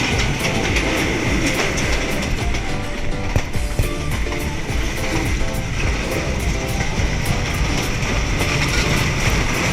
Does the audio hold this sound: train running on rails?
yes